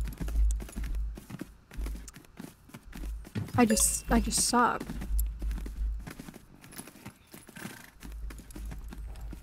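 In the horse game Tales of Rein Ravine, a show-jumping horse's hooves clip-clop in a steady walking rhythm, with a loud whinny in the middle, while a person talks over it.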